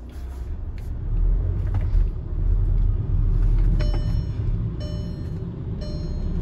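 A VAG Euro6 car engine pulls in fourth gear, a steady low rumble that swells as it accelerates, heard from inside the cabin with no talking.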